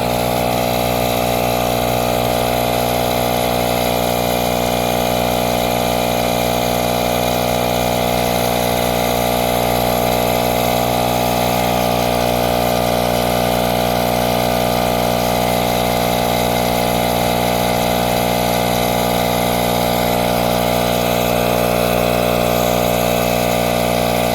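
A pump inflates the inner tube of an e-bike fat tire, running as a loud, steady motor drone with a constant pitch for the whole stretch and no talking.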